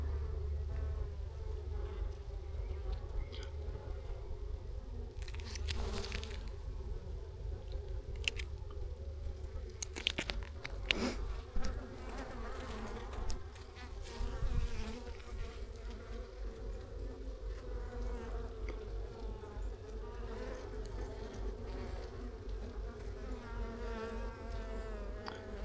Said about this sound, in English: There's an emerging bee right here.